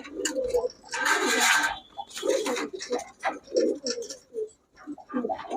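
Giribaz pigeons coo inside a pigeon shop, with several throaty, rolling calls that come close and loud in uneven bursts and short pauses.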